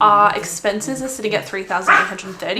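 Dogs bark and yip in the background of a home recording, overlapping someone talking steadily about money.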